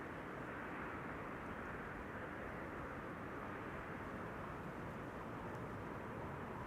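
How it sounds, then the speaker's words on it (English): An airliner with Rolls-Royce engines at an airport gives off a steady, even, distant engine roar with no breaks, fairly faint throughout. "Oh, Rolls-Royce engines, let's listen"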